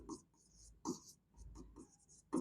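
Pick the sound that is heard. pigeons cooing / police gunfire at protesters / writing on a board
writing on a board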